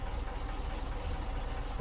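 A truck engine idles in Snowrunner, a steady, close, low rumble with a faint knocking texture that holds evenly throughout, with no talking.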